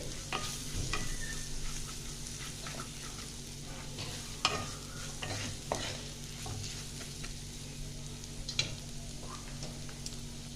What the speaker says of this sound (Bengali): এইটাকে একটু হালকা করে ভেজে নেব, জিরে ধনের গন্ধটা যেন না আসে।